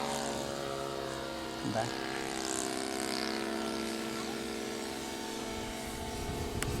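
A radio-controlled model airplane flies aerobatics overhead with a continuous propeller drone that rises and falls as it maneuvers, moderately distant, while people talk over it.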